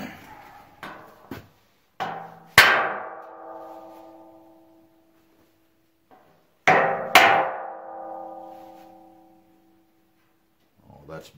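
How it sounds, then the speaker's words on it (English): A big hammer strikes a block of wood to drive press-in parts into place, giving a few sharp, loud blows with ringing decays, clustered in two groups separated by quiet. "take a block of wood and a big hammer"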